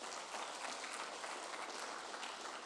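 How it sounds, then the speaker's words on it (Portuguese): A church congregation claps for the Lord during a Portuguese-language service, a quiet, dense, steady patter of many hands heard from a distance, with no voices over it. "As palmas para o Senhor."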